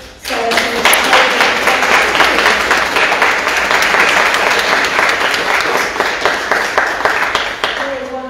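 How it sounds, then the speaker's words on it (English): A church congregation at St James Barlborough applauds its new young choir members during a Sunday Eucharist, sustained full clapping that swells in quickly and holds steady for several seconds before tapering, with faint voices near the end. "Why don't we give them a round of applause?"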